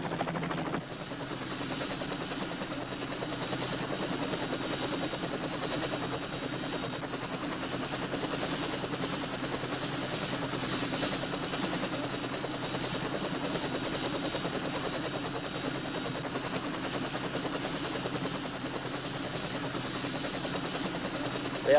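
A helicopter flies steadily for the whole stretch, a continuous loud rotor and engine drone with a low throbbing hum, no voices over it.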